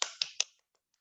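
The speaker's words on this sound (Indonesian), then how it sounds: "Wah, mari kita beri tepuk tangan." A few hand claps in a small indoor group discussion, three sharp claps about a fifth of a second apart, fairly close, followed by very faint trailing taps.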